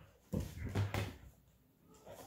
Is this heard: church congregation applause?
no